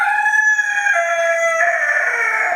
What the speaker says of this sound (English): that's Red, my rooster, and he's going to interrupt us because that's the kind of thing he likes to do